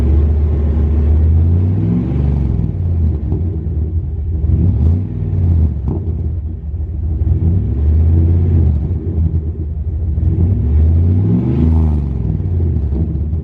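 A Dodge truck's 5.9-liter 360 engine revs through a Flowmaster muffler, the deep rumbling exhaust swelling and dropping in repeated throttle pulls, loud and close with a steady idle between.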